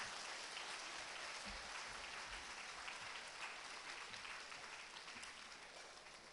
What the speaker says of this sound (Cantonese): 請大家以熱烈嘅掌聲歡迎我哋指揮